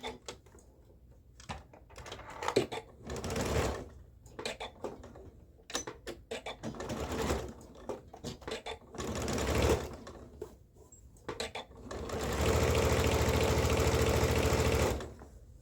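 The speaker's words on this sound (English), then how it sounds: "I'm gonna sew the other side." A sewing machine stitches fabric on a flared dress bodice in several close, loud bursts of rapid mechanical whirring, separated by short pauses, ending in one long sustained run with no talking.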